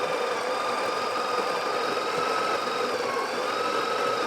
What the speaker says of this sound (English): you don't want to move your grinder unless the machine is running